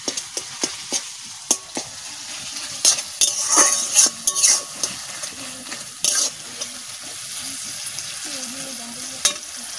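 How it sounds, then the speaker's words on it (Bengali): Greens (shak) frying with green chillies and garlic in a pan, a steady sizzle broken by repeated sharp stirring scrapes and clinks of a utensil against the pan, close and fairly loud with no talking. "আর কাঁচা লঙ্কা রসুন দিয়ে তো শাক ভাজতেছি।"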